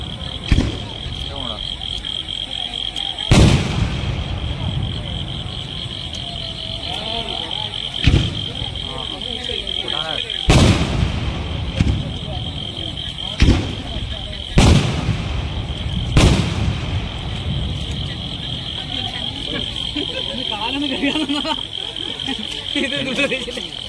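Festival fireworks at the Kunissery Kummatti celebration burst in a rain-soaked, muddy paddy field, a string of loud sharp booms at irregular intervals over steady crowd murmur and a constant high electrical whine, with people talking between blasts.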